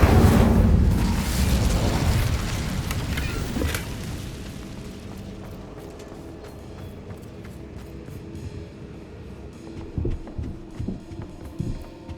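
A fire spell cast in Hogwarts Legacy, a loud whooshing burst of flame that roars and fades over several seconds, followed by quieter rumbling and a few thuds from the game.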